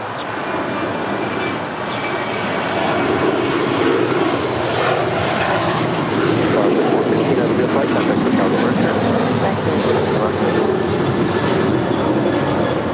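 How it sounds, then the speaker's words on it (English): A Virgin Atlantic Boeing 787 Dreamliner arriving from London lands at LAX, its loud, broad engine roar rising and holding steady, with no voices heard. "Just had a Virgin Atlantic Flight 141 coming in from London on that Dreamliner."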